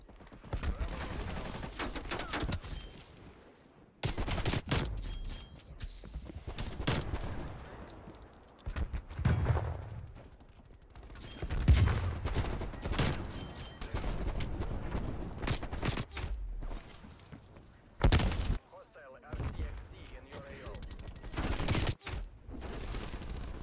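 A Magnum revolver fires again and again in Black Ops Cold War, with loud gunshots in bursts and clusters spread across a chaotic multiplayer firefight, broken by brief lulls.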